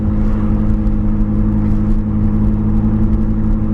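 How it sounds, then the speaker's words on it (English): A Nissan R32 Skyline GTR gives a loud, steady exhaust note, a deep, smooth engine hum held close and constant with no one talking over it. "And God, that exhaust note is wonderful."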